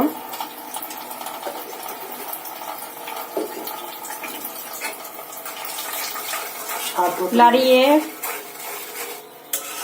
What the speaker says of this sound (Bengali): লাড়িয়ে এখন ওটাকে মিক্সচার করে দেওয়া হচ্ছে।